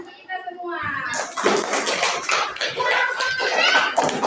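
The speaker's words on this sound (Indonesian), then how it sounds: "Ayo, mari tepuk tangan untuk kita semua" A classroom of children and their teacher break into group clapping, a dense, steady patter of many hands that starts after a brief moment and continues loudly to the end.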